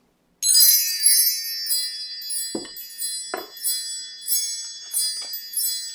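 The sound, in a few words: wind chimes ringing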